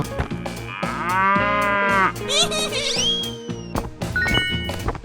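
Cow mooing in a 3D animal slide video game, several drawn-out moos over upbeat game music with bright synth tones, loud and close.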